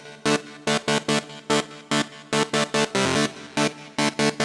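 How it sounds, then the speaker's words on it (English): Trance synth chord stabs built on a perfect fifth, bright buzzy hits in a syncopated, repeating rhythmic pattern, loud and close with no voice. "Now let's move on to the sound, which is a chord sound with a perfect fifth in it"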